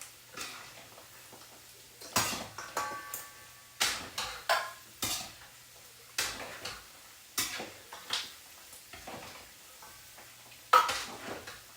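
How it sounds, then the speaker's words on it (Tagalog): Tea cream stirred in a bowl in a home kitchen: soft, faint scraping and clinking strokes repeating at a steady rhythm with short pauses between them. "Haluin ko muna ang tea cream"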